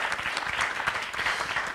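An audience applauding Jocelyn after an interview at a special anniversary event, a dense and steady round of many hands clapping, fairly close and unbroken from start to finish.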